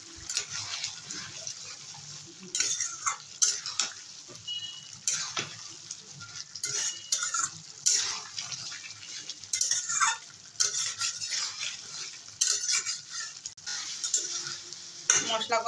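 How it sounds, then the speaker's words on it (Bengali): Spice paste being stir-fried with fried potatoes, green chili paste and a splash of water in a pan: irregular scraping and clinking stir strokes over a soft, steady sizzle, close and fairly quiet. "মশলা কষানো হয়ে গেছে"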